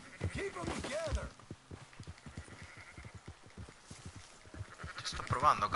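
A few sheep bleats rise amid a herd in Red Dead Redemption 2, the loudest early on, among trotting hooves and soft thumps, with voices speaking over the scene.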